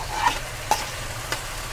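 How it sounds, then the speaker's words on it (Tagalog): Boiled beef and aromatics are stirred in a hot pan under a low, steady sizzle, with three brief scraping strokes spaced about half a second apart. "Halu-haluin mo ang baka."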